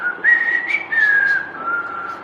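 A person whistles a sustained, wavering high tune meant to imitate a ghost, rising and sliding in pitch over a couple of seconds, fairly close and alone without talk.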